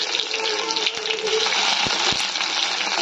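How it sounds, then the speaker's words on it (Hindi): Onions dropped into hot mustard oil with cumin seeds and dried red chillies in a home kitchen, a loud steady close sizzle with a few soft clinks of stirring. "जीरा फुटीगला पियाज पकईबा"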